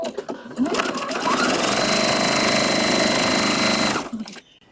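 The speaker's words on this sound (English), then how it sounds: "I'm going to chain stitch my pieces" Sewing machine chain stitching fabric pieces right sides together at a quarter-inch seam for a scrappy charm square quilt, one steady loud whirring run of about four seconds, starting and stopping cleanly.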